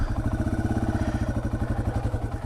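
A Yamaha TW200 motorcycle engine braking down a steep trail gives a loud, close, rhythmic low-pitched chug with rapid even pulses and a clattery edge, steady throughout.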